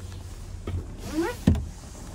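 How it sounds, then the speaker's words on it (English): Power sunroof motor on a 2022 Hyundai Palisade SEL, a soft whirring glide with faint mechanical clicks and a firmer thunk near the end, quiet inside the cabin. "And there we have our power sunroof."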